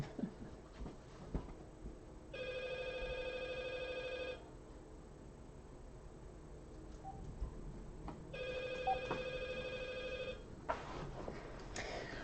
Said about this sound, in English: I'm also going to maybe take this phone off the hook if somebody doesn't grab it